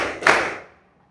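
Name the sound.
rhythmic hand clapping game in classroom (tepuk sore)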